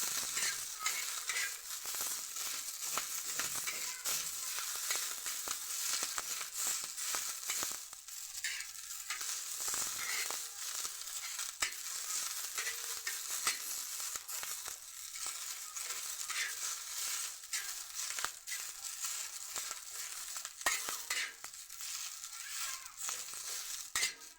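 Green chillies roast in hot oil for chutney, giving a continuous crackling sizzle throughout with frequent scraping and stirring sounds from the pan, steady and close.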